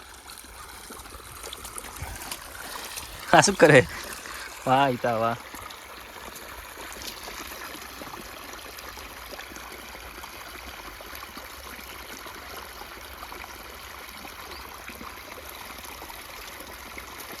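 Continuous gushing of water flowing from a borewell throughout, steady and fairly close, with a few short spoken exclamations over it early on.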